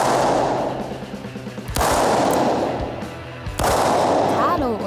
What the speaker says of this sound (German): Herausforderung 4, der Schuss.